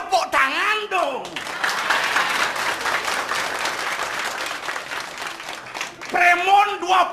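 Audience applause at a Balinese comedy stage show, a dense burst of clapping with voices speaking over it at the start and end.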